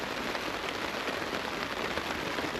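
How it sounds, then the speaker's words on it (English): Heavy rain from a storm drums steadily on a surface at a campsite, a dense, continuous hiss close by with no pauses and no voices. "I'm just going to relax and listen to the rain."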